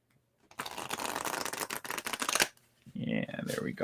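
Rapid riffling shuffle of tarot cards, a dense papery flutter lasting a couple of seconds, followed by a softer second riffle as a voice speaks over it.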